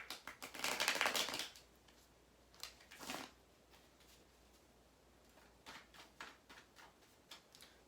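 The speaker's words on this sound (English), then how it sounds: "I'm going to go ahead and shuffle some more to clear the energy space." Tarot cards being shuffled by hand during a reading, a long riffling burst near the start followed by shorter, softer shuffling bursts spaced through the rest, close and fairly quiet with no talking.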